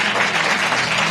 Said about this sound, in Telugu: you can give a clap offering to Jesus